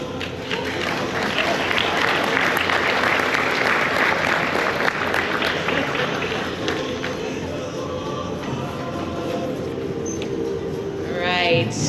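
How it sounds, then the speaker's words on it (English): Audience applause for two Tetris players at a conference event in Waikiki, sustained clapping from a sizable crowd that gradually thins and fades, with some voices and chatter toward the end. "Another big round of applause for those two."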